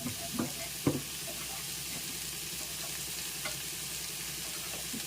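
Previously boiled chikkudu flat beans with salt and turmeric sizzle steadily in a pan, a continuous hiss broken by a couple of sharp spatula knocks early on as they are stirred. No one speaks.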